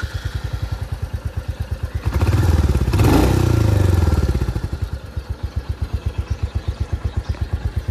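A Royal Enfield Hunter 350 motorcycle idles with a fast, even thumping beat and a continuous beep, swelling into a brief rev in the middle before settling back to the steady putter.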